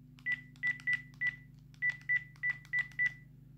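A series of short electronic keypad beeps from a Panasonic KX-TGA671FX cordless landline phone as a number is entered, about ten in quick succession with a brief pause partway through, over a steady low hum.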